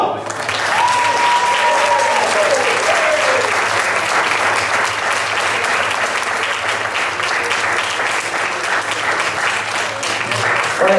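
Sustained applause from an audience at a cycling club awards evening, dense and loud throughout with a voice briefly audible early on over the clapping.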